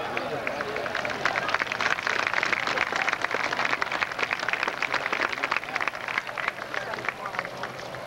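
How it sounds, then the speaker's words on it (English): Sustained crowd applause at an evening outdoor picnic, dense steady clapping from many hands across the whole stretch, fairly close and even in level. "Just show your appreciation for them coming this evening with your applause"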